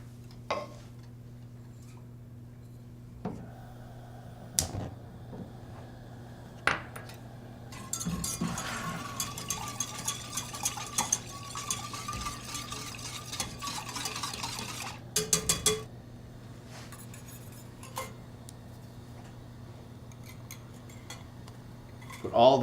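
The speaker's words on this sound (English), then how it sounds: "stirring to dissolve the sugar" A spoon scrapes and clinks faintly in a pot as sugar is stirred into milk over medium heat, quiet irregular taps and a spell of busier scraping over a low steady hum.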